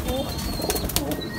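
Madrasi pigeons kept for sale in Bindapur, Janakpuri, coo and shuffle close by, soft cooing notes mixed with light rustling and brief flutters.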